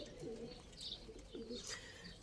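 Pigeons in a loft coo softly and repeatedly, low rounded calls with a few faint chirps, quiet and slightly distant.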